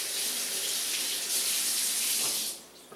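A kitchen sink tap runs steadily as a hand is rinsed under the stream, a close, continuous splashing hiss that cuts off near the end.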